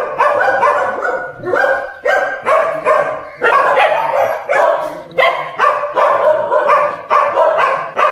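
Several dogs bark repeatedly in quick, overlapping bursts at a large stray dog shelter in Malaysia, loud and close, with yips mixed in and no pause for the whole stretch.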